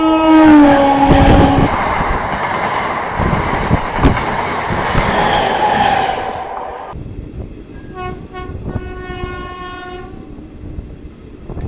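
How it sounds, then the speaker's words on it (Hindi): A MEMU train rumbles past at close range with rolling wheel noise at a railway crossing in India, followed by a long, loud two-tone horn blast as the rumble fades. "एक मेमू ट्रेन के साथ क्रॉसिंग।"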